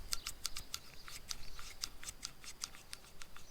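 Quiet, crisp snips of bypass pruning shears open and close repeatedly in quick, uneven succession, close by with no talking.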